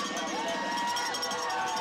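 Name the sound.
football crowd standing and cheering for Doane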